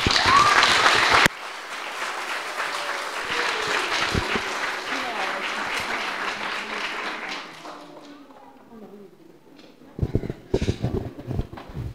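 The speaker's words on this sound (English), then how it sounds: "So give them another round of applause" An audience at a Cub Scout Blue and Gold ceremony gives a round of applause, a loud burst that cuts off and settles into sustained clapping, fading away before voices return.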